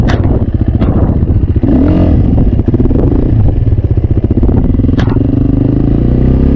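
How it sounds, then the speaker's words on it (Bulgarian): A loud motorcycle engine runs steadily at low revs during a slow wheelie in a circle, with a throaty, uneven burble and occasional mechanical clatter, close by and without talk. "Предната спирачка натискаме, съединителя отпускаме с гъста и той се вдига лесно мотора"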